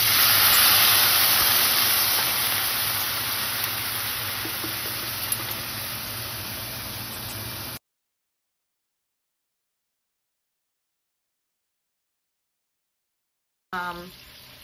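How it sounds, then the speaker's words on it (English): Half a cup of water poured into a hot pan of pork chops seasoned with thyme and garlic, giving a loud, steady steaming hiss for several seconds that cuts off abruptly, then returns briefly at the end. "we're going to add a half a cup of water"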